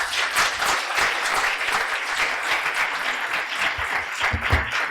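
An audience in a hospital healthcare transformation lab gathering breaks into sustained applause, a dense, steady wash of many hands clapping that stays even throughout.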